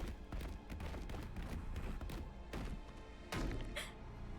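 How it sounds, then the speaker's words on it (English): Video game body thudding down stairs, heard as a dense series of dull, heavy thumps and impacts, loud and close, with no talk. "the fucking dull thudding of him falling down the stairs"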